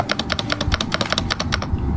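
Fast typing on a magnetic-switch keyboard gives a quick run of close, crisp key clicks in a steady, even rhythm, with no speech.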